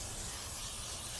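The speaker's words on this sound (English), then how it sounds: "So I have the new brake disc here, and of course it's covered in oil and stuff, so I'm going to use some brake cleaner" Brake cleaner sprays onto a new brake disc for a Land Rover Discovery 2, a steady, close aerosol hiss that lasts the whole moment without a break.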